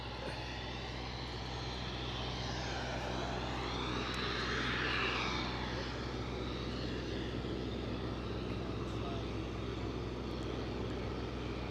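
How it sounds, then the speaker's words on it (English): Airplane at Aberdeen airport produces a steady, distant engine roar that swells slightly midway, a continuous broadband drone with no talk. "So, final plane of the show."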